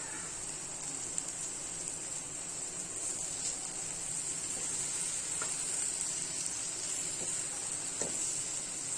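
Onion-and-spice masala for egg keema sizzling steadily in a hot pan, a continuous close frying hiss with a few faint stirring scrapes and no talking.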